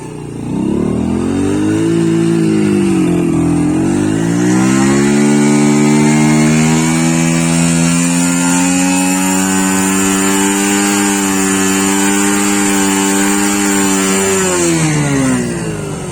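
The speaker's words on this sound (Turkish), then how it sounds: "yavaş yavaş gaz verdiğimizde son gazı veriyor ama birden yüklendiğimizde boğup stop ediyor" A 2022 Mondial SFC 50 Eco scooter engine revs up from idle, climbs and holds at a steady high pitch for about ten seconds, then drops back down, heard loud and close with no talking.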